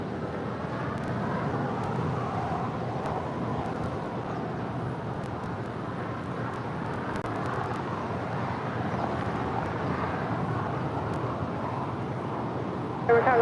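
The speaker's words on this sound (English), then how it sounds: "that is United 799 off to San Francisco. 737-900 ER." A United Boeing 737-900ER departing Los Angeles International Airport for San Francisco, a steady, distant jet engine roar rumbling evenly under wind and traffic noise for the whole stretch.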